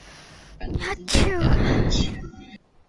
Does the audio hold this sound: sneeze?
yes